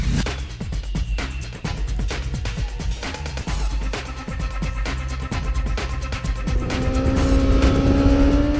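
Superbikes of 1000 and 600cc race on a circuit, with a steady roar of engines and rapid clattering pulses, ending in a rising, high-pitched whine as a bike accelerates nearby.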